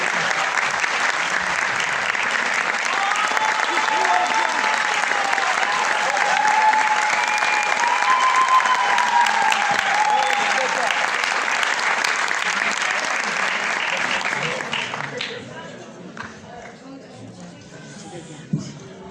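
An audience bursts into strong, sustained applause as a kanun master steps onstage to conduct a choir, the dense clapping filling the hall for about fifteen seconds before fading to scattered claps and quiet.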